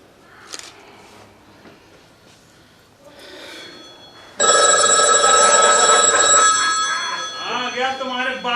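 A telephone rings with a loud, bright electronic trill that starts abruptly after some faint murmuring and breathing, continuing for several seconds, during a musical stage play.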